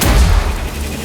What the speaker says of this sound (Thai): มันยิงอะไรมาวะ หมือนเป็นระเบิดครับ